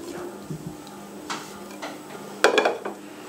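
Spices for potato seekh kabab are mixed in a bowl, producing a few light clinks and scrapes of a utensil against the dish, sparse and close, with one sharper clatter midway.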